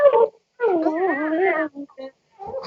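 A sleeping dog whimpers while dreaming, giving soft, high, wavering whines and yips in short bursts with pauses between them.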